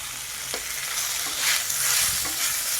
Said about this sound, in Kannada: ಈಗ ಇದೆಲ್ಲ ಚೆನ್ನಾಗಿ ನಮಗೆ ಫ್ರೈ ಆಗಬೇಕು.